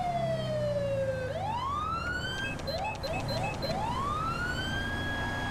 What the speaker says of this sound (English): No one listens to the sirens.